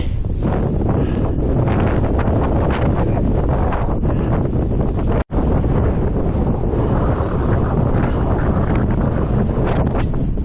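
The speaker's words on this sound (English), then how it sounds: "what a day for this! Bloody hell, it's windy." Strong, steady wind roaring and buffeting the microphone on a Welsh hillside above a valley, loud and unbroken apart from a brief dropout midway.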